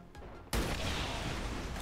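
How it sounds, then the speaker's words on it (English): A sudden broadband explosion erupts in the turn-based strategy game XCOM 2, a loud, dense blast that cuts in after a quiet moment and rumbles on through the rest of the short stretch. "with a nice little explosion."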